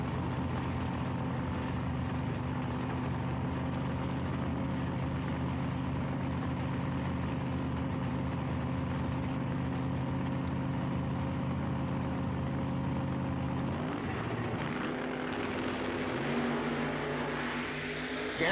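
Drag race door cars, including a 2007 Mustang, hold a steady rumbling idle at the line, then near the end the engines shift and surge as they launch, moderately distant and continuous with no talk.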